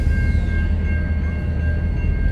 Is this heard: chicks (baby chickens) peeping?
no